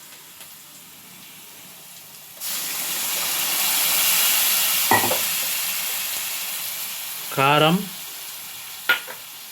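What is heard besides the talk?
stirring onions and turmeric frying with tomato puree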